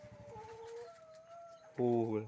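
Several clucks from chickens nearby, with a louder burst of harmonic calls near the end, heard alone without talking.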